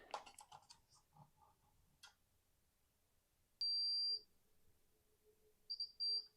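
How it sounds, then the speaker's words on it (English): A multimeter tests continuity across a fuse on a Marshall DAB radio board, with small clicks and handling noise, then a sharp steady beep, followed later by two shorter beeps, all fairly faint and close. "Let's just check continuity on that."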